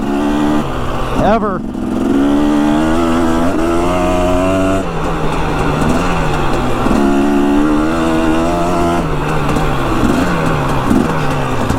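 A dirt bike engine runs steadily while being ridden, its droning tone rising and falling through gear and throttle changes. Someone talks over it throughout.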